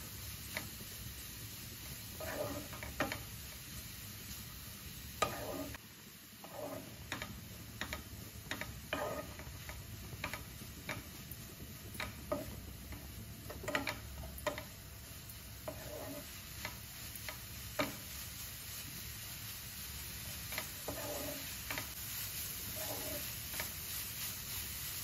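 Grated carrots fry in ghee for carrot halwa with a soft, steady sizzle, while a spoon scrapes and stirs through them in irregular clattering strokes, close and fairly quiet with no talk.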